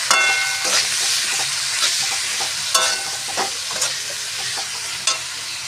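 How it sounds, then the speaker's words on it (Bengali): Spices with turmeric and red chilli powder, tomato and salt fry in hot oil for a Bengali rui fish curry, a loud steady sizzle broken by repeated scraping stirs of a spatula, close up. "এবার ভালো করে মশলাগুলো মিশিয়ে নিই।"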